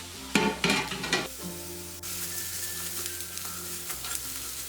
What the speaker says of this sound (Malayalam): ഈ ചെറുതായിട്ട് അരിഞ്ഞു വെച്ചിരിക്കുന്ന ചുവന്നുള്ളി ഇതിൽ ചേർത്തൊന്ന് വഴറ്റി കൊടുക്കാം